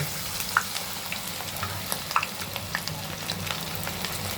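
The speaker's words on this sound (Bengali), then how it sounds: "আমি চিকেনটা এখন ভেজে নেব। চিকেনটা ভাজার জন্য কড়াইতে তেল দিয়ে দিলাম, গরম হয়ে গেছে।" Chicken pieces fry in hot oil in a wok, giving a continuous moderate sizzle with scattered pops and crackles, heard up close and without speech.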